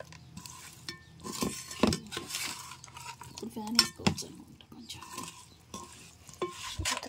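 Homemade chicken pickle is stirred together with salt and chili powder in a metal vessel, with irregular close scraping, clinking and wet mixing sounds.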